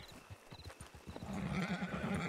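Horses in the Red Dead Redemption II roleplay game, with hooves clip-clopping in a quick, uneven rhythm and a short whinny, growing louder and busier toward the end.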